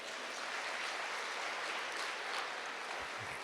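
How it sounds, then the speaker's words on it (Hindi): Steady applause from an audience at a spiritual talk, a dense even wash of clapping that holds at one level for the full stretch with no voices over it. "इनके लिए खूब तालियां बजाओ।"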